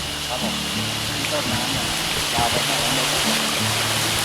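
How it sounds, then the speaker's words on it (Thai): Steady broadband rush of the Thi Lo Su waterfall on the Mae Klong river fills the scene, with people talking faintly beneath it. "อ๋อนี่น้ำตกตัวน้ำตกมันอยู่ข้างบนใช่ไหมครับ"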